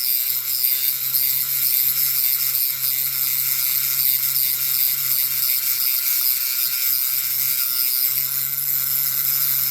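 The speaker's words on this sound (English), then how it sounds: "Grind them pins. Excuse a bit of noise." Loud, continuous high-pitched grinding of a power tool against metal rivet pins on a Dinky Toys diecast double-decker bus, steady and harsh with a low hum underneath, running without pause.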